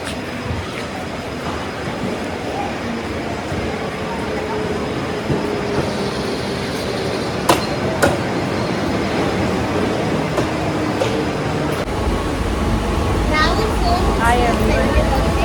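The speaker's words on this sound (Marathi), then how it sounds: "ट्रेनच्या आवाजामुळे आवाज पण येत नाही" A Panvel–Wadala local train running: a loud, continuous roar and rumble with occasional metallic clanks, and voices beneath the noise.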